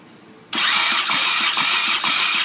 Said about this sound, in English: So it turns over, the starter's turning